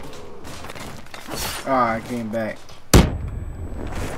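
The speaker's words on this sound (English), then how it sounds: "Grenades blow up cool." A grenade explodes in Black Ops 3 Zombies, Shadows of Evil map: one sharp, loud blast near the three-second mark with a ringing tail, after in-game voice lines and a player talking.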